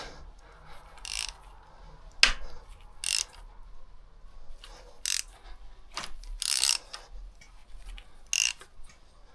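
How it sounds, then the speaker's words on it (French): A Renault Kangoo engine is turned over slowly by hand during timing work, giving sparse, irregular mechanical clicks, ratcheting snaps and metallic knocks up close in a quiet workshop, with no speech. "Et là on fait tourner le moteur."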